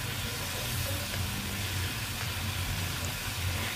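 Shol fish and potatoes frying in a pan give a steady, soft hiss and sizzle that runs evenly throughout at moderate volume, with no talking.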